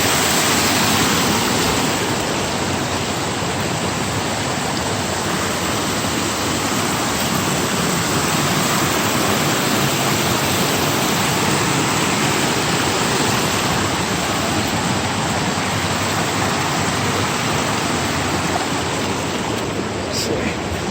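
A small side tributary stream in the Oregon Coast Range rushes steadily, a loud, close, continuous broadband wash of flowing water with no talking.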